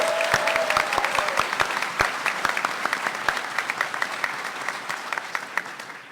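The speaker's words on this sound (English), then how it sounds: "one more round of applause for Delilah Dawson" Audience at a Star Wars books panel at New York Comic Con gives a round of applause, loud clapping with distinct sharp claps that gradually thins and fades toward the end.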